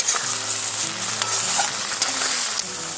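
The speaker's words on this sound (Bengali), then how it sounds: "এবার আমি মশলাটাকে ভালোভাবে নেড়ে চেড়ে কষিয়ে নেব।" Spice paste with garlic, cumin, chili and chopped tomato sizzles loudly in a pan for mutton kosha curry, with scraping stirring strokes and crackling oil close up throughout.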